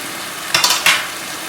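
Green pepper sizzles and is stirred in a pan alongside spinach for aloo palak, giving a short run of scraping, crackling stirs about midway, loud and close over a steady background hiss.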